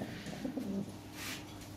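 A Lahori Sherazi pigeon cooing close by, a couple of soft low coos followed by faint rustle, quiet and brief.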